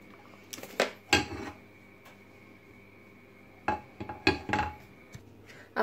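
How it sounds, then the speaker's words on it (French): A frying pan is handled while a tablespoon of oil goes in for a Lebanese fattoush salad, giving a few sharp metallic clanks and taps separated by quiet gaps. "Là, j'ai pris une poêle, je vais mettre à peu près une cuillère à soupe d'huile."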